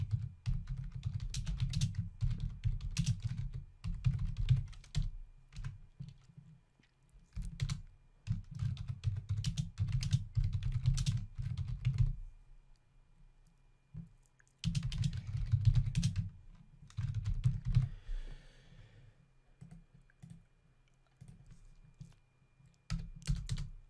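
Typing on a computer keyboard, bursts of quick close key clatter separated by short pauses, with a few isolated clicks and no speech.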